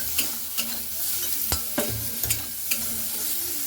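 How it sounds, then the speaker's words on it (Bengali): Jackfruit flowers fry in a pan with a steady close sizzle while a utensil stirs and scrapes, giving sharp metallic clicks at irregular intervals, with no talking. "এখানে কিন্তু খুব ভালো করে ভেজে নিতে হবে একেবারে লাল লাল করে।"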